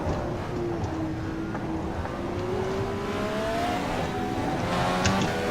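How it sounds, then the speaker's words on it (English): A simulated Indycar DW-12 engine in rFactor 2 at Mid-Ohio drones steadily and loudly, its pitch slowly rising and falling through gear changes along the track. "Driving the Indycars here at"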